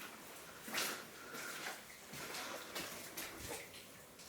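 Water roars down a shaft inside the Kensington Mine, a faint, hollow rushing that swells and fades in uneven surges, heard from a distance with no voices.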